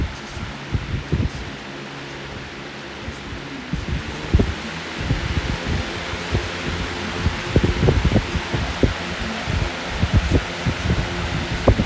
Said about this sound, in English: that 1 amp motor is really working that blade over